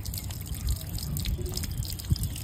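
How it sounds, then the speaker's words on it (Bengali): Running water patters and drips continuously as muskmelons are washed on a rooftop, a close, steady wet splashing with a couple of slightly heavier splashes near the end, no voices. "এখন এটা ধুয়ে নিব,"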